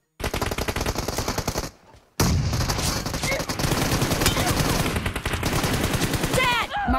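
Rapid shotgun and automatic gunfire in the mobile battle royale game BGMI, loud dense bursts nearly continuous, broken by one short lull, with a few whistling ricochet-like sounds at the end.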